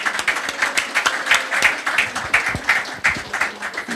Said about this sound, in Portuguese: dar uma salva de palmas especial para essas mulheres